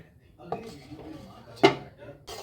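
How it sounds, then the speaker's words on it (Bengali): A lid is set on a pot of soybean and potato curry with one sharp metallic clack near the end, following a softer knock, while someone talks. "এখন আমি একটু ঢেকে দেব, কারণ আলু দেওয়া আছে, আলুগুলো সিদ্ধ হবে, এই জন্য আমি ঢেকে দিচ্ছি।"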